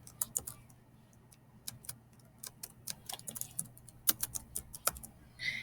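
Keys clatter on a computer keyboard in quick irregular bursts of taps, close and fairly quiet, with no talking.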